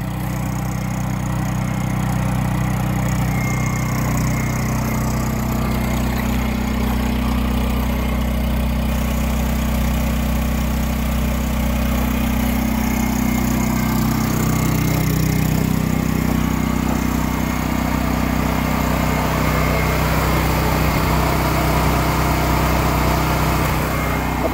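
A Westinghouse 7500/9500 portable generator runs steadily inside a custom shed, its engine droning loud and constant with a low idling hum throughout, no talk over it.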